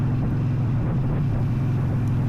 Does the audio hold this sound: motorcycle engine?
yes